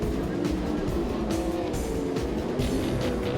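Sprint cars racing in a dirt-track heat race, a continuous loud engine roar with passing surges throughout, under a commentator's voice.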